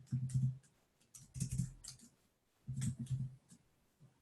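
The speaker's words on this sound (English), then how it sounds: "I'll type it for you." Bursts of typing on a computer keyboard, three clustered runs of quick key clicks separated by short pauses, close and fairly quiet with no talk.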